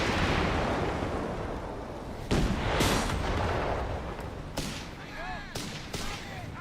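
Whizbang rocket artillery fires and explodes in the real-time strategy game Company of Heroes 3, a dense rumbling barrage with several sharp blasts, heard under a caster's excited commentary.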